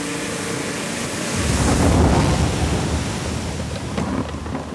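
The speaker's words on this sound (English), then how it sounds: "Water coming." Rushing water and crashing waves surge loudly on a Hawaii film set during a shipwreck action scene, a dense roaring wash that swells in the middle and stays continuous throughout, with no talk.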